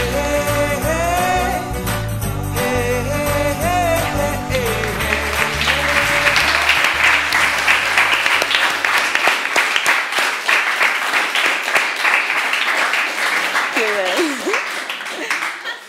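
Music plays for about six seconds, then an audience breaks into sustained applause and clapping for nearly ten seconds, with a brief vocal sound at the very end.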